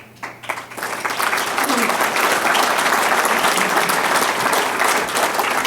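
Audience applause at a Cook County Health and Hospitals System speech builds quickly into sustained, dense clapping from a large crowd, holding steady and fairly loud for several seconds.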